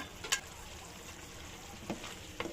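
Cauliflower frying in a pan, a low steady sizzle punctuated by a few sharp clacks of a utensil against the pan.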